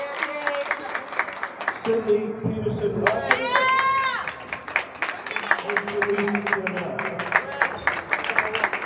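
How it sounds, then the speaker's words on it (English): An audience claps steadily through a school winter sports ceremony for a girls' basketball team while an announcer's voice reads out names over the applause. "Give a big round of applause, ladies and gentlemen."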